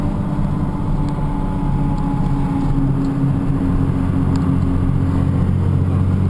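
A 6.2 liter Cummins diesel truck engine pulling uphill in fourth gear under about 38 pounds of turbo boost, a loud, steady, close drone with a sustained low hum throughout.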